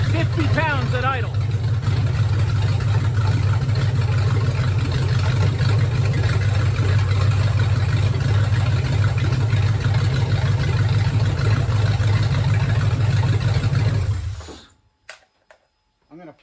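An LT1 V8 idles in a 1961 Rambler, a loud, steady low drone that holds for about fourteen seconds before cutting off abruptly into near silence.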